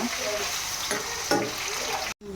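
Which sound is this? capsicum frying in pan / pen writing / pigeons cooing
capsicum frying in pan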